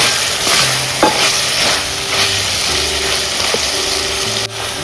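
Ground masala paste stirred into a hot frying pan for a Malvani dried baby shark curry, with loud close sizzling and scraping stir strokes over a steady frying hiss.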